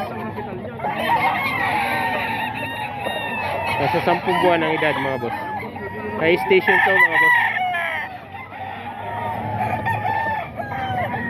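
A ten-month-old red kelso gamefowl rooster crows among other roosters clucking and crowing in a busy seller's area, heard close and under steady talking by a man.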